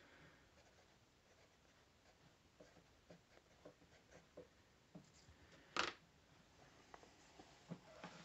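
A Musgrave Bugle natural wood pencil writes on paper, giving soft, faint scratchy strokes in an irregular rhythm, with one brief louder scrape partway through; no one speaks.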